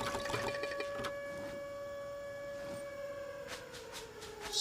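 A faint, steady siren tone drones continuously in the Misery survival game, a sustained hum with clicks and small noises scattered over it.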